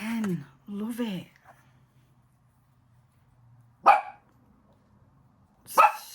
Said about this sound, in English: So sorry about the dog.